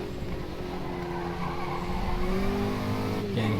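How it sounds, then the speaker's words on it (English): Race car tires squeal steadily in the rFactor 2 sim racing game, a sustained screech over engine drone that bends in pitch near the end, with no talking. "tire squeal"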